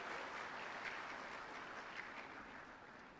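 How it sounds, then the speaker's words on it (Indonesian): Faint, steady applause from a conference audience at a Blockchain Technology event, greeting Blockchain University, a soft continuous patter of many hands heard from a distance. "Tepuk tangan untuk Blockchain University."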